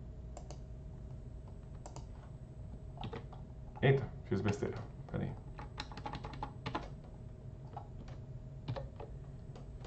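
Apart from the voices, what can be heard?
typing on a computer keyboard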